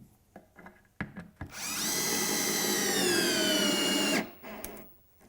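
A power drill drives a screw into the foot of a wooden planter box, its motor whirring steadily for about three seconds between short clicks and handling knocks.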